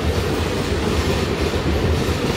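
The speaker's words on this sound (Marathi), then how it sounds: "तर आता आपली ट्रेन निघालेली आहे मुंबई सेंट्रलवरून" A passenger train pulling out of Mumbai Central rumbles loudly and continuously from inside the carriage, a dense low roar of wheels and running gear with faint rhythmic clatter.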